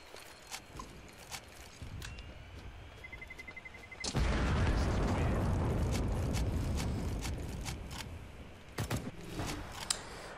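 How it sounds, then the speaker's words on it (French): Bomb explosion in Counter-Strike: Global Offensive on the Nuke map during a pro match, a sudden loud boom that rolls on for several seconds amid sharp gunshot clicks and game noises. "Il va mourir avec l'explosion de la bombe"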